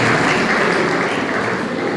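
Audience applause following an answer at a public lecture, a dense, steady wash of clapping at moderate volume, sustained throughout without a break.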